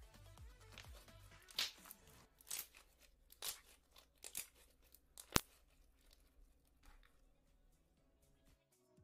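Slime stretched until it tears, heard close and quiet as a series of sticky rips, crackles and soft pops scattered irregularly across the stretch.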